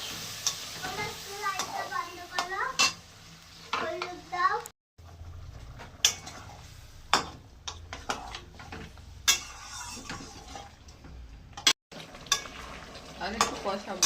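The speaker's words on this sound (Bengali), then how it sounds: "কাঁচা পাকা লঙ্কা, একটা টমেটো পেস্ট দিয়ে দিলাম। এবার ভালো করে কষিয়ে নেব।" A spatula scrapes and clanks around a pan as rohu fish curry with potato, lentil dumplings, beans, sugar, chilies and tomato paste is stir-fried, sharp repeated clinks over a low sizzle, with an adult and someone talking nearby.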